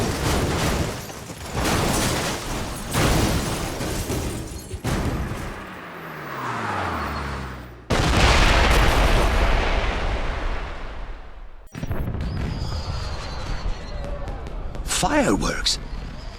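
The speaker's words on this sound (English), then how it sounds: "Did you know there were going to be fireworks?" Fireworks bursting in a cutscene from the James Bond 007: Blood Stone video game, a run of loud booming blasts and crackles with a whistling rise midway, heavy and close, with a brief drop before the bursts resume.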